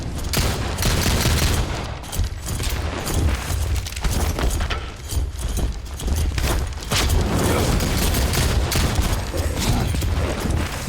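Rapid, loud gunfire in the video game Soulslinger: Envoy of Death, dense overlapping shots and booms continuing without a break for the whole stretch.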